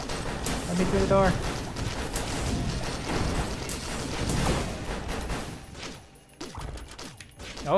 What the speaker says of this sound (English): There's some fireworks.